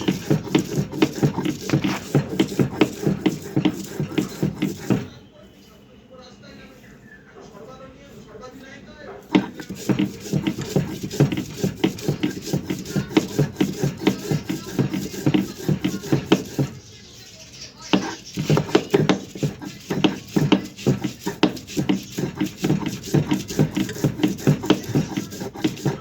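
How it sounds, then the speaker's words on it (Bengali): Raw drumstick leaves being ground into a thick paste without water: repeated rhythmic scraping and pounding strokes, close and fairly loud, broken by two short pauses. "এই দেখো সাজনা বাটাটা বেটে ফেললাম।"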